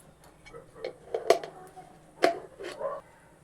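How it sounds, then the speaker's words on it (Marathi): Mustard seeds crackle in hot oil while tempering for kanda poha, giving scattered sharp pops and clicks of varying loudness over a quiet kitchen background. "आता मी पोह्याला फोडणी देते."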